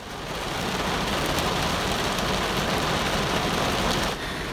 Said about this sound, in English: It's pouring like crazy.